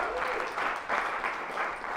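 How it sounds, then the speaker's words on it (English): An audience gives a round of applause for the founders of Better Story at a Christian talk. The clapping is moderate and continuous, filling the short moment without a voice over it. "Let's give them a round of applause."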